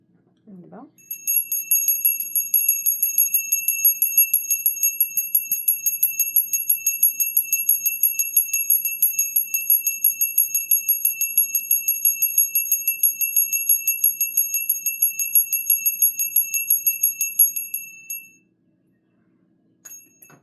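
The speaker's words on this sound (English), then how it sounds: "I'm going to ring the bell." A small ringing bell sounds alone for about seventeen seconds, struck in a steady rapid rhythm of bright, clear metallic dings that stay close and even before stopping abruptly.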